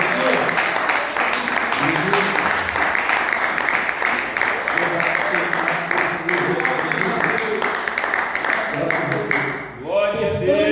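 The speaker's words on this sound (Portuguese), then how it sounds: "louvando a Deus com as palmas, bem alegre" Church congregation clapping hands together in joyful praise during a worship service, a dense, steady wash of applause that runs for about ten seconds before fading out, with faint voices underneath.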